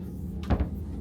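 A safe drawer in a cruise ship stateroom on the Disney Treasure slides shut with a single soft thud and brief rattle, close and clear against quiet room tone.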